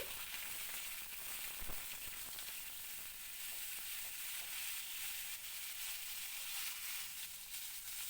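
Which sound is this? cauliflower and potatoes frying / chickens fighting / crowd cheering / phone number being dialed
cauliflower and potatoes frying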